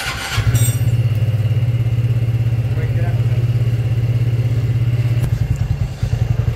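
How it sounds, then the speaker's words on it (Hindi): A TVS Ntorq scooter engine idles smoothly after an oil change, a loud, close, steady low putter that holds evenly for several seconds before a brief throttle change near the end. "इंजन का साउंड पूरा स्मूथ हो गया।"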